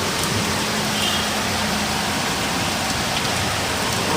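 Heavy rain pours steadily with gusting wind at night around a security guard post, a dense, continuous wash of sound close by with no talking.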